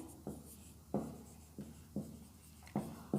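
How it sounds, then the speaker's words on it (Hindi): Someone writes on a board, making a quiet series of short tapping and scratching strokes at an uneven, unhurried pace. The sound is close in a quiet room, with no one talking. "एक और लिखते हैं"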